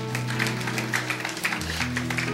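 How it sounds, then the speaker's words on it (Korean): A church congregation at a Sunday service in Seoul claps to welcome a pastor, a steady patter of applause over sustained organ or keyboard chords. "목사님 나오실 때 여러분 환영의 박수를 보내주시기를 바랍니다."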